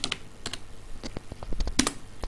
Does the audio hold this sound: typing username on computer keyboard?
yes